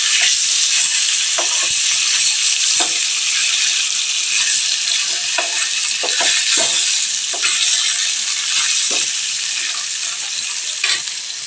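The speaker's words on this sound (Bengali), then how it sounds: "মাছটা একটু ব্রিফলি ফ্রাই হোক" Fish fries in a pan with a loud, continuous close sizzle, broken by occasional soft clicks and scrapes as pieces are turned, with no talking.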